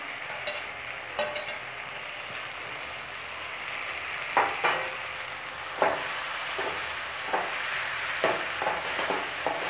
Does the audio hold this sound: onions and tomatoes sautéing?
yes